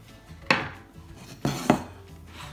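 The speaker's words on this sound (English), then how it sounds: "I'm just gonna, at this point, toss into the bowl our asparagus." Asparagus spears dropped into a salad bowl already holding wild rocket and pea shoots give three quick, close clattering impacts, crisp and light, with quiet pauses between them and no talking.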